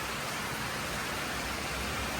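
Steady rain falls outdoors during work on a car, a dense, even hiss that stays constant and close for the whole stretch with no voices.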